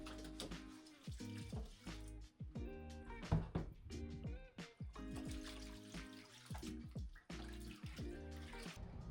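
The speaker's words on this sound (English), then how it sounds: "Now I'm just cleaning the bottom of the tub here while I have just an inch of water in there." Shallow water, about an inch deep, swishes and sloshes as the bottom of a cold plunge tub is scrubbed, quiet uneven splashes and trickles coming in repeated bursts.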